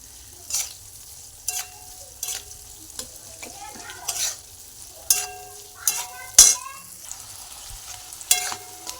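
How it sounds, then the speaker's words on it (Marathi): Potatoes stir-fried in a pan for sabudana khichdi: a low sizzle beneath repeated sharp scrapes and clinks of the spoon against the pan, coming in irregular bursts every second or so. "छान अशी परतून घ्यायचा आहे बटाटा।"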